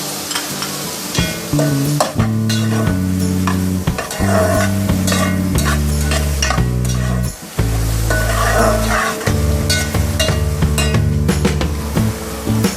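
Capsicum and corn stir-fry for egg fried rice in a loud, steady sizzle, with a utensil stirring and clinking against the pan over a music bed and one brief pause.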